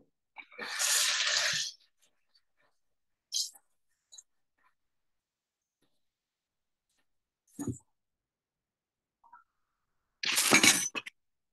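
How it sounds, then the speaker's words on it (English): Running tap water splashes in a kitchen sink during handwashing before cooking egg fried rice, in a couple of short bursts separated by long quiet gaps, with faint clinks in between. "So I'm gonna wash my hands."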